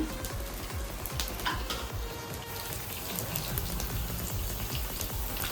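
Cut garlic pieces fry in hot oil in a pan for an Andhra-style tempering, giving a constant bright sizzle with dense crackle that stays steady and close throughout.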